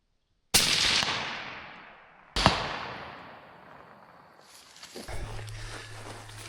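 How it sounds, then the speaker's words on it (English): Two loud rifle shots fired at a bear during a hunt, about two seconds apart, each with a sharp crack and a long echoing outdoor decay, followed by faint rustling. "If you see his heart, go ahead and shoot it."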